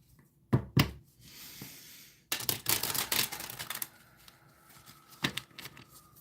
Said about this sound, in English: One more little shuffle here.